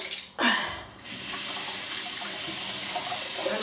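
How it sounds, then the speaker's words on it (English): A brush is rinsed under warm water from a running tap: a brief splash, then a steady, close, broadband rush of flowing water that continues evenly to the end, with no talking. "I'm washing this out with warm water and squeezing it."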